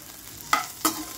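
Onion and green chillies sautéing in oil in a pan, heard as two short, sharp stirring scrapes over a faint, quiet background sizzle.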